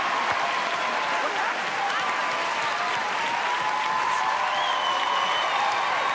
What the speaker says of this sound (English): Please give Howie Mandel a huge round of applause.